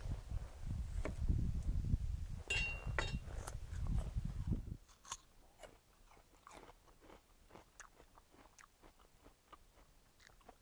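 Someone bites into and chews a crunchy raw yacon root, with loud crisp crunches and a rustle at first, then softer, quieter chewing with small clicks, close up and without talk.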